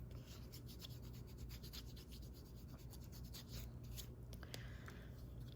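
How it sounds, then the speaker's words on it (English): A rubber stamp mounted on a block is rubbed briskly against skin, producing faint rapid scuffing and rasping strokes repeated steadily over a low background hum. "I'm gonna scuff it up on my hand."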